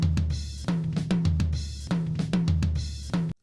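Drum toms, a rack tom and a floor tom, struck alone in a studio mix, deep resonant hits in a steady repeating pattern alternating between the two drums, close and full.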